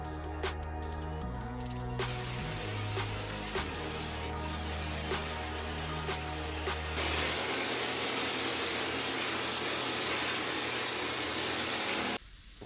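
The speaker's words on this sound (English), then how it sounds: "Same process, spray and knock down, spray and knock it down." A compressor-driven sprayer hisses continuously, spraying texture onto a drywall repair, with a steady motor hum underneath that shifts partway through; no talking.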